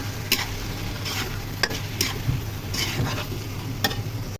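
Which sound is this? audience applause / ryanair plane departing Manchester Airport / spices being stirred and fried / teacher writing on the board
spices being stirred and fried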